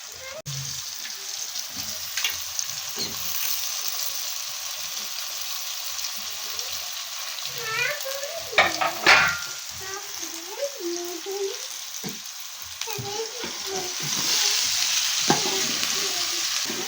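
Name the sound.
ivy gourd pieces frying in oil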